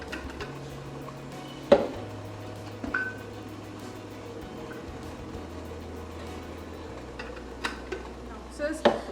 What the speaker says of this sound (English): So now we're gonna whisk this